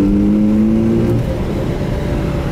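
A 1984 Mazda RX-7 GSL-SE with a 13B rotary engine and five-speed manual pulls hard in third gear, a loud steady engine drone with rising harmonics that levels off and rumbles on with road noise, no talking.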